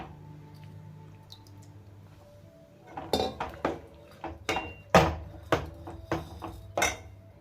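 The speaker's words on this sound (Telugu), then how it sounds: "ముందుగా కడిగి పెట్టుకున్న బెండకాయ ముక్కలు వంకాయ ముల్లంగి కూడా వేసుకుంటున్నాను" Sliced okra, brinjal and radish tipped into a pot for Andhra-style pappu charu, giving a run of close clattering thuds and metallic clinks from the second half onward after a quiet start, with no talking.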